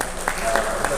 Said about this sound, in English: That's a big round of applause for this man